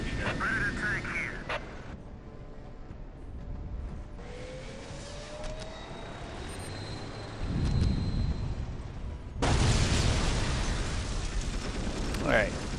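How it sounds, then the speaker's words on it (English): Long-range artillery shells from a Dawn of War Soulstorm battle crash down as heavy booming explosions with rumbling bursts, the loudest hits late in the stretch, among game effects and voices. "Might as well continue this long-range bombardment."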